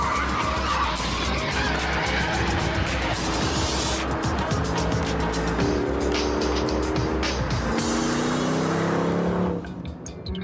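A Mercedes Black Series sports car is driven hard on a race track, its engine roaring steadily while the tyres squeal and skid through corners, loud and close, before the noise drops off sharply at the end.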